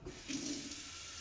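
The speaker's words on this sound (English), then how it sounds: "I'm going to go ahead and put some water in for" Water running from a kitchen tap into a pot for rice, a soft steady splashing stream, faint and continuous with no talking.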